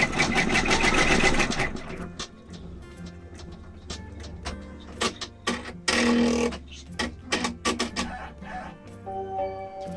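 A sewing machine runs in bursts, stitching the placement seam for the flap of a novelty drinking mask. The stitching is loud and close, with short starts and stops and brief pauses between runs.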